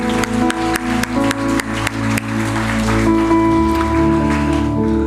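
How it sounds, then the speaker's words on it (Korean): A church congregation at a Friday prayer meeting claps in a steady rhythm over sustained keyboard or organ chords, then the clapping fades and the music carries on. "우리 이 시간 동안 허락하신 우리 하나님께 감사와 영광의 박수, 그리고 우리 모두에게 축복과 격려의 박수로 함께."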